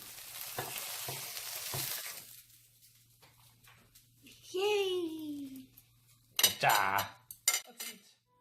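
Kimchi pancake sizzles softly in a pan under excited voices, followed by a rising squeal-like vocal sweep and a few sharp clinks of utensils against the pan.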